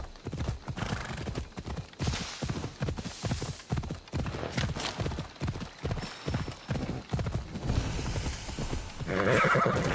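A horse gallops in the video game Assassin's Creed Odyssey, its hooves beating a fast, steady rhythmic clatter close by, ending with a whinny.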